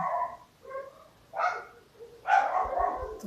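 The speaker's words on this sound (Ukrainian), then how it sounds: "щось наші собаки тут на вулиці розгавкалися" Several village dogs bark outdoors in short bursts, a few yaps followed by a louder, more sustained volley, moderately distant.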